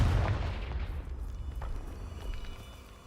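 The Confringo explosion spell in Hogwarts Legacy sounds as a single booming blast that rumbles and fades over a few seconds, moderately loud with no talking.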